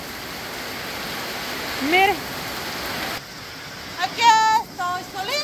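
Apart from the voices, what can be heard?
heavy rain during a storm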